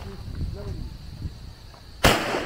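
Single sharp gunshot during firearm shooting training, a loud close crack near the end followed by a short echoing tail, after faint instructor talk and range noise.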